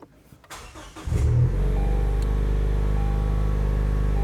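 A car engine cranks and catches, then settles into a steady, loud idle rumble that continues to the end.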